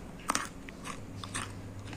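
A few quiet crunchy bites into crisp fried shakarpara, with soft crackling crunches scattered over about two seconds against a faint background hum.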